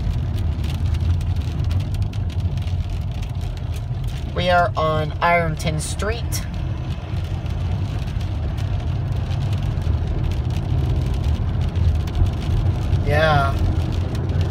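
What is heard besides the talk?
rain and wind during thunderstorm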